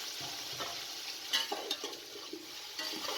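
Chicken and potatoes cooking in a cup of oil for biryani: a soft, continuous sizzle and crackle with occasional stirring scrapes, fairly quiet and close, without speech.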